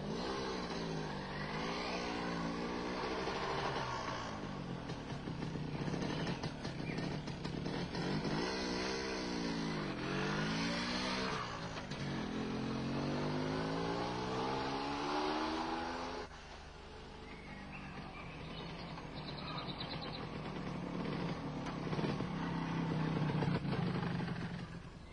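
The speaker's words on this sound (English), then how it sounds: "Carry out an approximately 5-kilometer test ride." An MZ ETZ 250 two-stroke motorcycle engine on a road test ride, steady droning with repeated rising and falling revs as it accelerates and shifts through gears, continuous and close throughout.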